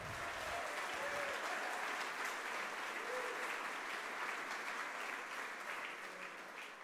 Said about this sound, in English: One last round of applause for Brooke Sweet.